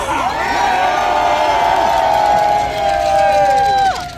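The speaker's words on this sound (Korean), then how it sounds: "여러분 한번 박수 합시다." At a political rally in Daejeon, a crowd cheers, shouts and blows horns together in a loud, sustained swell that lasts several seconds before cutting off abruptly.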